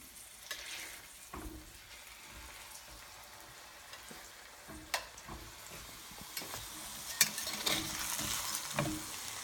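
Organic veggie burgers sizzle and fry in a pan, a steady crackling hiss with occasional sharper pops and stirring scrapes, fairly close and alone without talk.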